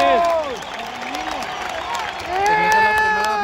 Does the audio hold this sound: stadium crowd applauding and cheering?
yes